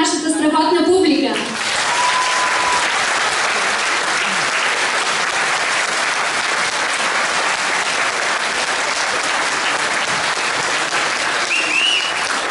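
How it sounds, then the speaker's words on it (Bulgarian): A concert audience at a folk ensemble's anniversary show breaks into loud, sustained applause right after a brief spoken line, the dense clapping continuing evenly to the end. "Нека да аплодираме нашата страхотна публика!"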